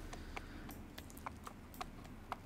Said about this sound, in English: Oh, the horse is scared.